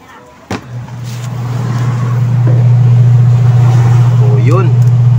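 A washing machine loaded with clothes and water starts up with a thump, then spins into a steady, loud low hum that builds and holds. A person speaks briefly over it.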